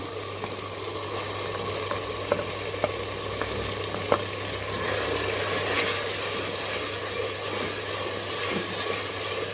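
Tomatoes, garlic and ginger frying in a pan for chana masala, a steady close sizzle with a few light clicks of stirring and no talk.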